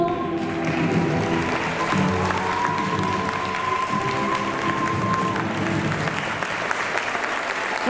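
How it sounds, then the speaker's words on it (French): Thunderous applause from a pageant crowd honoring the candidates at the Miss Nièvre 2025 election, a dense, sustained wash of clapping with some cheering and a tonal musical line running beneath it. "un tonnerre d'applaudissements."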